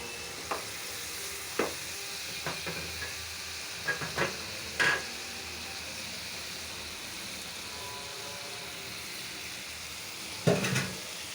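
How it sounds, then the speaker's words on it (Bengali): Spice paste for koi fish bhuna with bori and tomato frying steadily in a pan, a soft continuous sizzle broken by scattered stirring scrapes and clinks of a spoon against the pan. "এখন মশলাটি ভোনা হবে"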